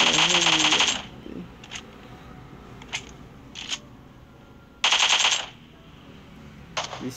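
AK rifle fire in the video game PUBG Mobile: two loud, rapid bursts of automatic gunshots a few seconds apart, with scattered single clicks and taps in the quieter gaps.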